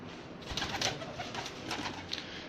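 A racing pigeon coos softly in a short, faint burst of low, throaty calls over quiet background noise.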